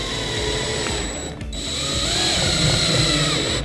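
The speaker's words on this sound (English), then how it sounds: "We're just going to take one screw, clutch still set low on our screw gun." A screw gun with its clutch set low whirs steadily up close while driving a 1/2-inch screw into a cabinet panel during wall cabinet assembly, with a brief dip midway and no talking.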